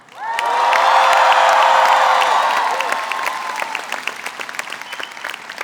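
A graduating class at a college convocation ceremony erupts in loud, sustained cheering, whoops and applause that swells quickly, holds for a few seconds, then thins into scattered clapping.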